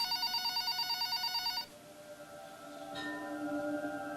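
A telephone rings with a rapid, pulsing electronic trill that cuts off abruptly, followed by quiet room hum and a faint tone as the line connects.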